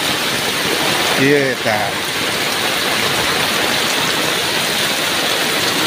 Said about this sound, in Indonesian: Ini baru hujan beberapa saat begini.